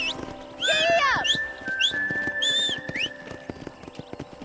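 A horse in Red Dead Redemption sets off at a ride, with a loud whinny, sharp whistles, and irregular hoof clip-clops on the ground continuing afterward.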